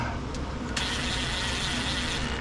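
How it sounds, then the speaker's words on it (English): An impact wrench briefly runs down small timing belt cover bolts on a Honda HRX217 mower's GCV190 engine, a continuous close buzzing rattle with a couple of short clicks near the start. "I'm gonna take my impact and just barely run them down"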